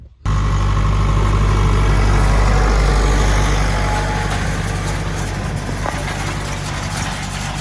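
A tractor engine runs steadily in an open field while planting sunflowers, a loud close low rumbling drone that holds constant throughout, easing slightly in loudness partway through, with no talking.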